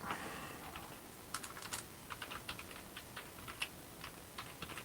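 Keys tapped on a computer keyboard, a soft scattered run of clicky strokes in uneven bursts over a low hiss, faint and fairly close, with no voices.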